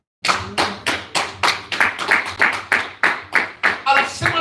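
A church congregation clapping to praise God, a steady rhythmic beat of about a dozen loud unison claps, close and strong, with faint voices mixed in.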